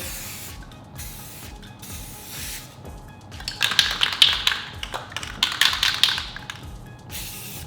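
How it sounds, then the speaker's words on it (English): A spray can of paint hisses in short repeated bursts partway through, sprayed onto a window, close and fairly loud, over a faint rhythmic tapping background. "So I use spray paint to kind of show you guys that."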